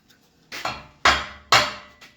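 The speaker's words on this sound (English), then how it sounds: "Tappy tap." Three sharp hammer taps ring out on the steel frame of a Western snow plow under repair, spaced about half a second apart, close and loud with metallic ring.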